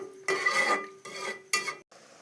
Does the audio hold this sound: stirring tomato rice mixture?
yes